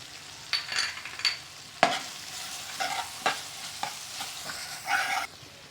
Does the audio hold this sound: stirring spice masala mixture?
yes